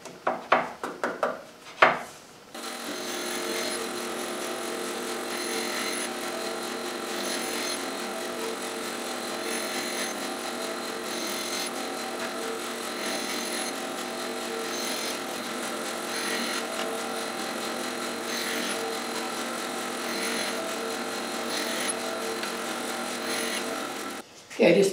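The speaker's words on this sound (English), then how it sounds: "this next board's a piece of walnut. Let me cut a bunch of wedges for that also." A walnut board is cut into many wedges on an Accu-Wedge system fitted with a dust shield, giving a continuous, close power-tool drone with faint repeating cutting pulses and a few clunks at the start.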